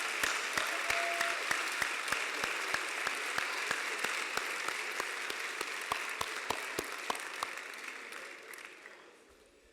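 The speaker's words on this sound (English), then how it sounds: "Let's give Brother Golden another round of applause" Sustained audience applause fills a large gathering at a university convocation forum, steady dense clapping that holds for several seconds before tapering off near the end.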